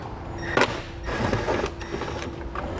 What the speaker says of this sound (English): we'll take a 10mm socket and we'll unthread the screws